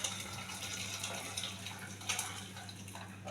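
Liquid is poured slowly into a pot of sambar with dal and vegetables, a faint continuous trickling and splashing close by, with no talk.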